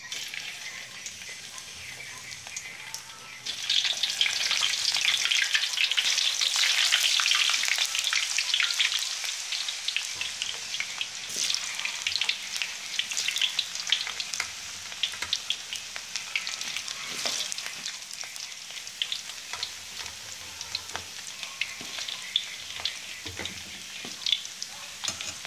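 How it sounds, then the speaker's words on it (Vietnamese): Potato pieces drop into hot oil and sizzle loudly for several seconds, then settle into a steady, crackling fry with small pops and spatters in a home kitchen. "Rồi dầu nóng rồi mình cho khoai vào nha các bạn."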